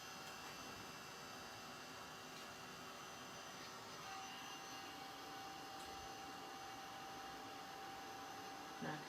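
A heat tool blows steadily over embossing powder on a handmade card, a faint, even hiss and hum that runs unbroken for about nine seconds.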